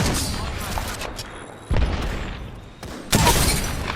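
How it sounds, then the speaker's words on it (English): A grenade goes off in the Apex Legends battle royale shooter: two heavy, loud broadband blasts, the second closer and harder, burst out of a constant din of game gunfire and battle noise. "Look out, grenade."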